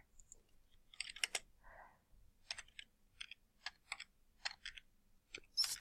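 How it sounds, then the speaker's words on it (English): Keys on a computer keyboard are typed close and quiet in a short, irregular run of crisp clicks with brief pauses between them. "I'm going to type"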